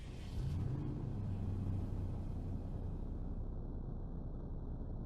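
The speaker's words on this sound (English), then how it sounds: "Let's take a listen to the engine startup." A BMW X7 xDrive40i M Sport SUV starts up in a Roblox driving game, producing a steady low engine rumble and hum that holds evenly for several seconds with no talking.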